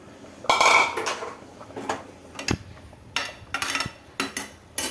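Metal pot and lid clinking and clattering in a home kitchen while cooking cabbage with a little water, several sharp knocks and scrapes spread across a few seconds, close and fairly loud with no talking.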